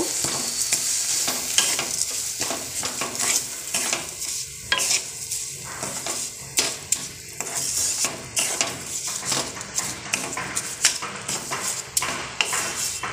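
Coconut and sugar filling with a little milk is stirred in a pan for pakon pitha, giving continuous scraping and stirring strokes with a light sizzle and occasional clinks of the utensil against the pan.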